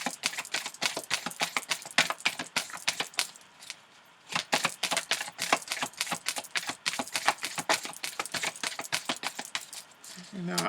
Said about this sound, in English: I tried different ways of shuffling